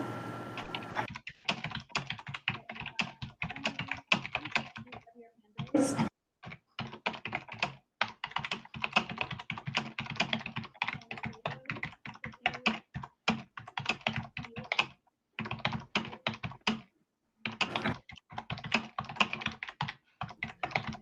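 Steady typing on a computer keyboard during an online board meeting, close and continuous with rapid uneven keystroke bursts and brief pauses, no talking over it.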